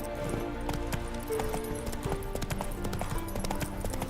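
Geralt's horse Roach galloping in The Witcher video game, a rapid, steady clip-clop of hooves under continuous game music.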